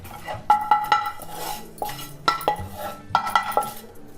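Roasted poppy seeds being scraped and transferred out of a pan while making gulachi poli, giving a few light metallic clinks and scrapes of a spoon against the pan, close and clear with no talking.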